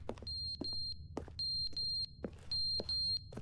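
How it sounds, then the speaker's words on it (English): Electronic beeping in the video game The Stanley Parable, where the player is locked alone in a room: high repeating chirp groups in a steady rhythm over a low hum. "Don't like the beeping. Not a fan of the beeping."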